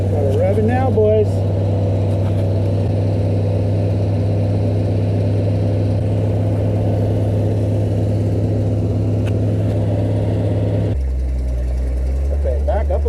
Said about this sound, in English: Gotta rev it now